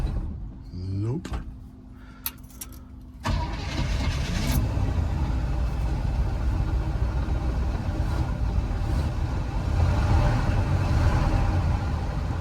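An old plow truck engine left sitting for about 20 years runs rough at idle, then swells into a louder, sustained revving drone after a few sharp clunks, steady and close throughout.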